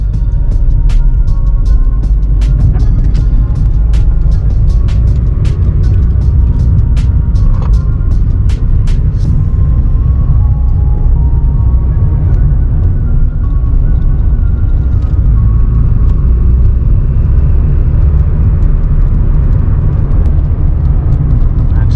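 A Honda Fit being driven at night, heard from inside as a steady, loud low road and engine rumble that holds throughout, with brief faint clicks early on.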